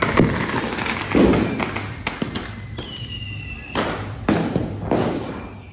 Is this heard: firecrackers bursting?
yes